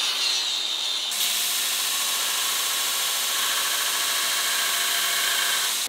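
A Damascus steel billet is ground on a power grinder, giving a loud, continuous, harsh abrasive roar that grows brighter after the first second and holds steady until it stops abruptly near the end.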